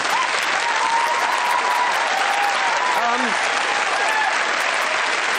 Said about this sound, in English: Let's have a pointless round of applause there